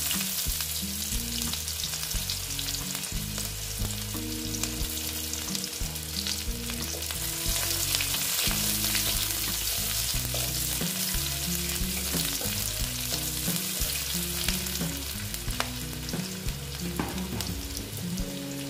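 Sliced onion sizzles in hot oil over a black cumin tempering, a continuous close frying hiss that runs under prominent background music, with no speech.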